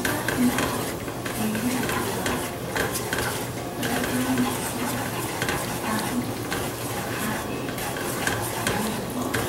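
Roux for chicken and sausage gumbo is stirred steadily in a hot pot, giving a continuous close sizzle with rhythmic scraping and light utensil clinks against the pot.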